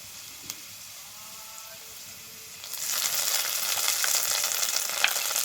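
Chopped green chillies and ginger paste hit hot oil for a kanch kolar kofta curry, a sudden loud, close sizzle swelling up and holding steady as a continuous hiss after a quieter start.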